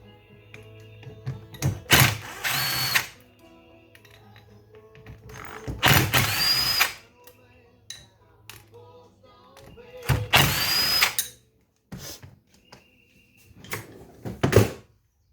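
An impact driver knocks out Allen bolts on an Arctic Cat 400 4x4 ATV in loud, rattling bursts of a couple of seconds each, repeated about four times with quiet pauses between, and a faint whine at the end of some bursts.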